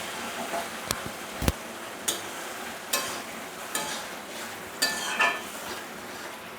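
Lentils stirred into papaya and potato frying in a pan: a quiet sizzle broken by about eight sharp metallic scrapes and clinks of the spoon, spaced roughly a second apart.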